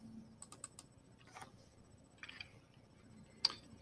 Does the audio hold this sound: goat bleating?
no